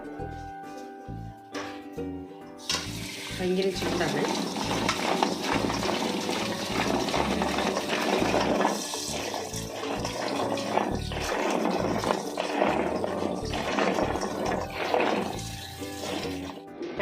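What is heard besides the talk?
pouring water to wash boiled jackfruit seeds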